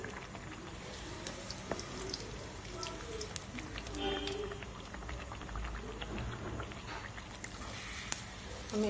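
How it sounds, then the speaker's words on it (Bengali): Teler pitha fry in hot oil with a dense, continuous sizzling and bubbling hiss, steady and close, while a voice speaks faintly beneath it. "আমি একে একে সব পিঠাগুলি ভেজে নিব।"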